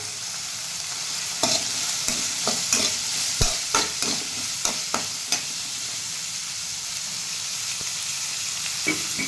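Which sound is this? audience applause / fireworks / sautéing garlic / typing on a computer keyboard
sautéing garlic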